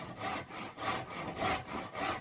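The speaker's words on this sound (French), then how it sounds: "on a l'habitude de scier droit" A hand saw cuts straight through timber for a wooden house frame in steady back-and-forth strokes, about four rasping passes, close and fairly quiet.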